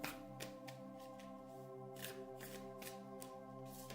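Animal spirit oracle cards being shuffled close up, a quiet run of repeated riffling flicks in an even rhythm over a soft steady hum.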